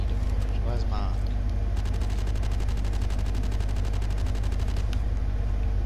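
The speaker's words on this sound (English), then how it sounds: "I've just been killed by a mortar." Rapid, evenly spaced automatic gunfire rattles for several seconds over a constant low rumble of battle in a Roblox World War II shooter, with a brief voice early on.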